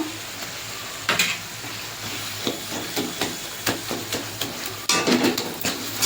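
Cumin and coriander spice paste frying in a pan, with a steady hiss under periodic scraping stir strokes, close and without talk.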